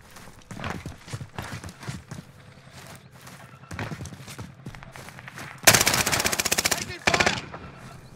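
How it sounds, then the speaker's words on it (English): Automatic rifle fire in the Warzone video game, a loud rapid burst near the end following scattered quieter shots, with people talking throughout. "Taking fire!"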